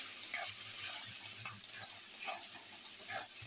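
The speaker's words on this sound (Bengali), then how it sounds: "বেগুনগুলোকে নেড়ে নিয়েছি।" Eggplant pieces are stirred in a pan for a thin fish curry with chapila fish. A soft sizzle runs underneath, and repeated spoon scrapes and knocks come at an uneven rhythm.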